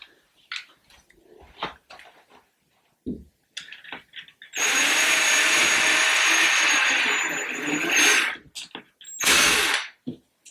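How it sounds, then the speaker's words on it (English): A power drill bores into a wall in one loud sustained run of about four seconds, followed by a shorter burst, with scattered handling clicks and knocks before it, indoors during a closet makeover. "I've just drilled a lot of holes in my wall."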